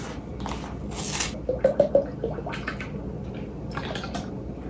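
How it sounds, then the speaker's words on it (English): Ice cream base ingredients, including cookie butter extract and salt, are poured into a container with soft wet glugs and a few quick splashy drips at close range, otherwise quiet. "So let's pour in our ingredients."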